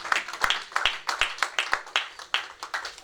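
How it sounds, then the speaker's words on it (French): A church congregation clapping together in praise, steady rhythmic claps at a lively beat, fairly close and filling the room without any talking. "Applaudissons le Seigneur."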